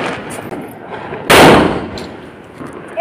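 A Diwali firecracker bomb bursts once in a sharp, loud crack that decays over about a second, with festive background noise before and after.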